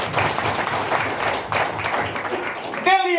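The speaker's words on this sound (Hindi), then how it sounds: "जोरदार तालियां आपके लिए।" An audience at a motivational mindset talk bursts into sustained applause, dense steady clapping from a crowd that holds loud for about three seconds before it cuts off abruptly.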